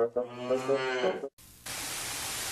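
A cow gives one long, loud, tonal moo in a fast food commercial, followed by a short silence and then a steady hiss of static.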